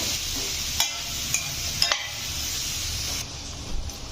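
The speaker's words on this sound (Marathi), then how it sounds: "हे सर्व भाज्या आपण छान असं मिक्स करून घेऊ या मसाल्यांमध्ये एक ते दोन मिनटं आपल्याला छान या परतून घ्यायच्या" Mixed vegetables sauté in spice masala for a vegetable pulao, a soft continuous sizzle broken by a few sharp scrape-and-stir clicks, fairly quiet and close.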